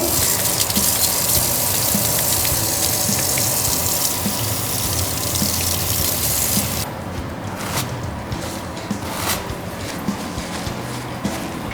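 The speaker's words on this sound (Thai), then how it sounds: "1. ล้างมือด้วยน้ำสบู่และเช็ดมือให้แห้ง" Hands are washed with soap under a running tap at a sink, a steady close rush of water that eases partway through as the flow changes, with splashing continuing to the end.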